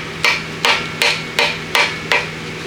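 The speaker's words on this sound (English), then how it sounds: "So with a rubber mallet, that is." A rubber mallet taps a Honda B series engine block six times in an even, steady rhythm. Each hit is close and dull, with a short decay.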